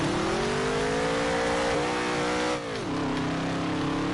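A race car engine in a PS4 racing game holds a loud, sustained high rev, then dips sharply as it shifts down before settling into a lower steady drone, close and continuous with no talk.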